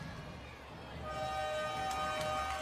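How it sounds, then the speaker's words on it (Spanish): A horn sounds to end the first half of a futsal match between Osasuna Magna and Córdoba Patrimonio. It is a sustained tone rising out of the steady murmur of an indoor arena crowd. "Suena la bocina, no da tiempo para más."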